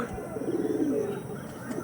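Pigeons of Andhra and Kalanka breeds with feathered feet coo in a low, steady murmur that runs continuously through the short stretch, fairly close and alone without talk.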